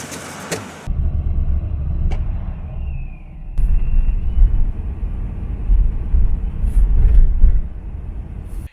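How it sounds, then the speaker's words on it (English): A C6 Corvette convertible with an LS3 V8 and an MSD 8733 unit fitted, revved up after a switch is flipped: a deep, loud engine rumble that swells and surges over several seconds, then stops abruptly. "And rev it up."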